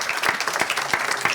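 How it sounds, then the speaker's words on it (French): An audience claps together after a discussion evening held at a tropical aquarium. The applause is brief and moderately loud, made of quick irregular claps at close range. "Je pense qu'on peut les applaudir et les remercier."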